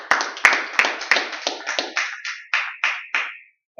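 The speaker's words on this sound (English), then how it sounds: "Let's give each other a round of applause" Applause from a small library audience in Manhattan greeting the artist and his accompanist, a burst of claps that thins into a dozen or so spaced, decaying hand claps before dying away.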